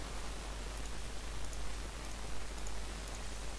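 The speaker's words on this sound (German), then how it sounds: "Es regnet mal wieder" Rain falls in the video game Minecraft, a steady, even hiss of dense droplets with no pauses, moderately quiet and continuous throughout.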